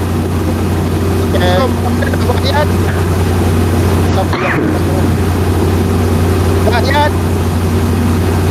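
A steady motorcycle engine drone hums beneath someone speaking, loud and constant throughout.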